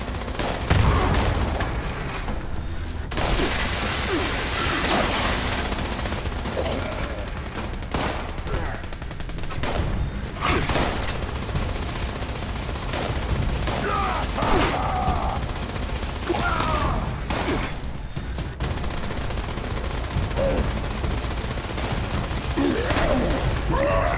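Sustained gunfire in Fallout 76, dense bursts and rapid shots running almost continuously over a steady game soundtrack, loud and close throughout.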